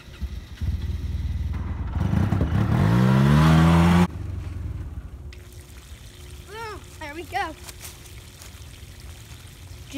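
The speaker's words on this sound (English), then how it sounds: "that's right whenever it shoots out" Water from a faucet hose bursts into a large handmade backyard pond with a loud gushing rush lasting about two seconds, then settles to a softer trickle while someone talks nearby.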